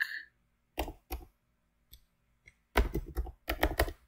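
Computer keyboard typing comes in short bursts of close, crisp key clicks, sparse at first and then a quicker cluster near the end, with quiet pauses between.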